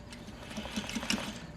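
A sewing machine stitches a half-inch seam to enclose elastic in its casing, with a soft, steady mechanical whir and faint rhythmic ticks of the needle across a short, quiet stretch.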